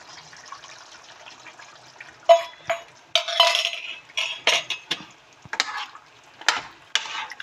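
Mutton curry stirred in a pot after yogurt is added, with wet, squelching scrapes and clinks of a spoon against the pan coming in irregular bursts, close and alone after a quiet start.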